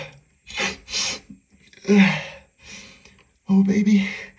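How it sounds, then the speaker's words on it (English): A man sneezes while trying to stifle it, giving short breathy bursts and a sharp explosive release, with clipped vocal sounds in between. "Oh no, I'm gonna sneeze again."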